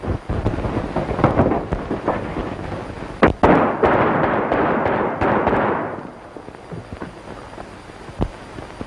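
Gunfire in a 1934 John Wayne western shootout, a rapid run of sharp cracks and bangs over a dense rumbling roar, then scattered single shots as it thins out.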